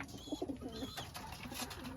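Low, throaty pigeon coos repeat in a few soft bursts nearby, with a constant hiss behind them.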